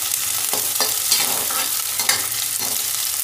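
Onions frying in a pan of oil, cooked to light pink for a potato and carrot sabzi, sizzling steadily and close with repeated scraping stir strokes throughout.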